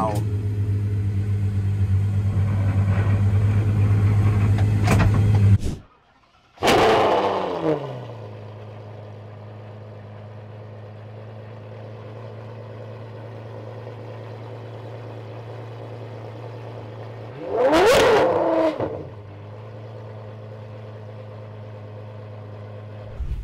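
A De Tomaso P72 prototype's engine mounted right behind the cabin drones steadily during a drive, with two brief, louder bursts of revving or gear changes breaking the constant low hum.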